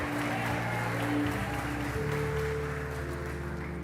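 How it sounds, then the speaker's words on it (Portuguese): Applause from a church congregation, steady and moderately loud, blended with sustained organ or keyboard tones underneath. "Você pode aplaudir a Ele nessa noite"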